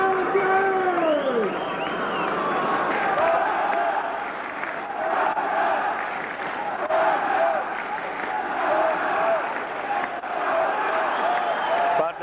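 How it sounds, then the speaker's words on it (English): A boxing arena crowd in Sydney cheers and applauds loudly between rounds of a heavyweight fight, a steady roar of voices with clapping running throughout, an announcer talking over it. "The crowd's going wild."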